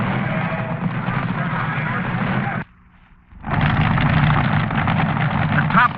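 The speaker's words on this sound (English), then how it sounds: "Every power stroke of the engine can be seen pulsing out of the exhaust." A top fuel drag racing car engine from the 1975 Winter Nationals roars loud and raw, cutting out briefly before surging back in a second heavy burst.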